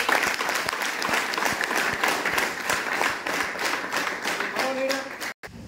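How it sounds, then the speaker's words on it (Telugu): Audience applause at a business meeting, a sustained wash of many hands clapping that holds steady for several seconds before a brief voice and an abrupt break near the end. "ఒకసారి బిగ్ క్లాప్స్ ఇవ్వండి."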